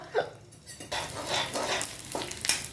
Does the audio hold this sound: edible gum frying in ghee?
yes